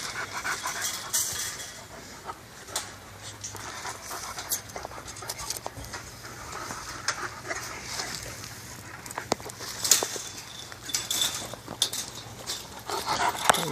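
Four-month-old puppies pant steadily with faint whimpers throughout, moderately close, with no clear talking over them.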